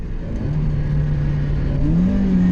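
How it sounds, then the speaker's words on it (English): A Mazda MX-5 Miata on stock suspension blips its engine in a heel-and-toe downshift on twisty Florida roads, a loud in-cabin drone whose pitch climbs sharply in a quick rev. "Little heel and toe, and let the brake go, dip it in."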